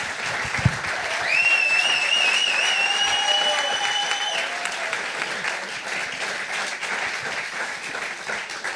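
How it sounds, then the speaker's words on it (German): Audience applause at a 2017 science slam, a sustained dense clapping from a large crowd in a hall, steady and loud throughout, with a few whistles and cheers rising above it. "Applaus für Sergej."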